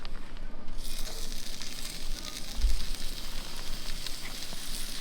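Fresh redfish sizzles in olive and coconut oil on a hot grill-top stove at a beach campsite, a loud, steady, close crackling hiss that holds for the whole stretch with no talk.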